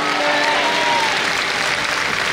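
A church congregation applauds in a dense, steady wash of clapping that stays loud and even throughout, with faint sustained musical tones beneath.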